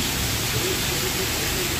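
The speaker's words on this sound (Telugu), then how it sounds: "గైస్ రెయిన్ చూడండి ఎంత ఫుల్ పడుతుందో రెయిన్ ఫుల్ వర్షం" Heavy rain pours in a dense, steady, close roar of broadband noise that stays constant throughout with no breaks.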